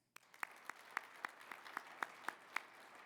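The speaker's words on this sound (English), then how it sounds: "please join me in another round of applause" Applause from an audience at an awards ceremony, fairly faint, with a steady rhythm of distinct close claps over a soft wash of clapping for about three seconds.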